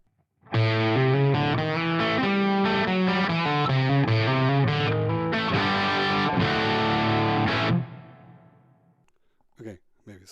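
Distorted electric guitar through a Fractal Audio FM3 preset with reverb, playing sustained chords for about seven seconds before a reverb tail decays into near silence, followed by a couple of faint taps.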